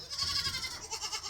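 Goats bleat in a winter goat pen on a farm, a couple of quick, wavering, nasal calls heard close up in a very brief burst.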